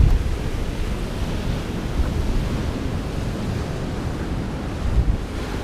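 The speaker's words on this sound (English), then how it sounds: "makes its way down here in the form of a waterfall" Water pouring down a small waterfall, a loud, steady rushing roar with wind buffeting the microphone, close by and continuous, no talking.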